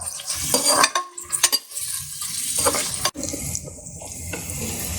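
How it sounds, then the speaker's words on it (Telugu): Onions and green chillies frying in a pan for sambar, a close sizzle broken by stirring clatter and a watery hiss, no voices. "ఉల్లిపాయలు పచ్చిమిరపాయలు చక్కగా వేగనివ్వాలి అన్నమాట"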